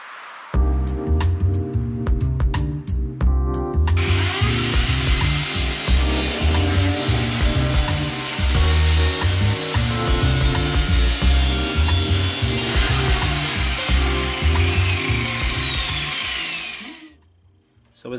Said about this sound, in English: we're going to cut the seam over here, where the front mudguard meets the front valance